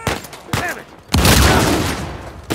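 Gunfire in the action video game Uncharted 4, a short burst of shots followed by a loud sustained blast of rapid firing, close and forceful.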